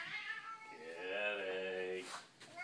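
A house cat gives a long, drawn-out meow that rises and falls over about a second, close and clear, followed by a shorter cry in a quiet room.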